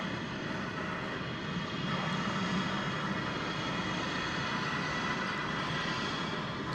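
An airplane approaching to land at Dallas/Fort Worth airport makes a steady, moderately distant engine rumble and whine that stays even throughout, with no speech over it.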